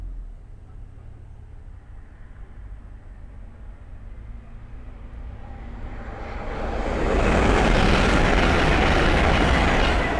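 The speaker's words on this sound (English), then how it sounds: "the next train to pass by is a Hull train 802 going from Hull to London King's Cross" A Hull Trains Class 802 on the East Coast Main Line at Sandy approaches with a low rumble that swells into a loud, broadband roar as it passes close by, heading from Hull to London King's Cross.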